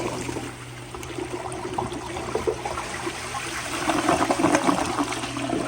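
A 1992 ADA URC Apollo toilet flushing at reduced water pressure, a continuous close rush and gurgle of water that swells louder near the end, with no talking.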